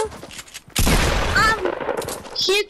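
A burst of gunfire in a team shooter video game, a loud crackling volley of about a second. Players talk excitedly before and after it.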